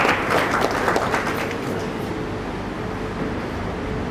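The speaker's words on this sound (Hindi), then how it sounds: "जोरदार तालियों के साथ आइए स्वागत।" Loud crowd applause fills the hall at an award ceremony and magic show in Lucknow, strongest at first and then settling into a steadier wash of clapping.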